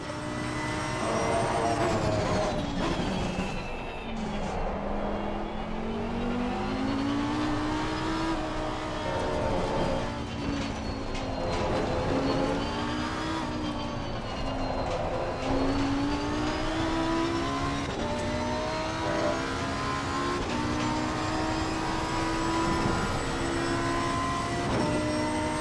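Lamborghini Evo2 race car engines in a racing video game at Indianapolis, a steady loud high-revving engine drone with rising and falling pitch through gear changes and several cars close together.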